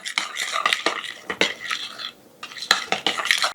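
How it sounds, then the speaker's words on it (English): Cake batter with vanilla gets mixed by hand in a bowl for coffee cake, a close run of quick clinking scrapes and taps of a utensil against the bowl, irregular and alone. "now we'll just mix that together"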